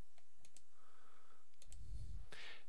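A computer mouse gives several sharp, close clicks spaced out over a few seconds in a quiet room, followed by a soft breathy sound near the end.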